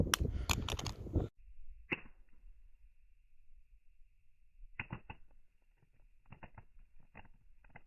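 A Motorola Razr 2 (V9M) flip phone dropped face down onto the ground outdoors: a burst of wind buffeting, then a single sharp clack of impact, followed by quiet with scattered small taps and rustles.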